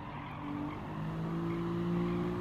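A racing car in Gran Turismo 7 braking hard into a left-hand corner, with steady engine drone and a sustained tire squeal running through, loud and continuous with no talk.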